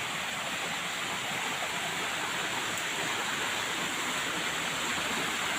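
A forest stream flows with an even, continuous rush of water, moderately loud and unbroken throughout, with no speech.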